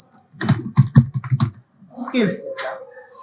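Quick, rhythmic keystrokes tap on a computer keyboard for about a second and a half, then a person speaks over the quieter remainder.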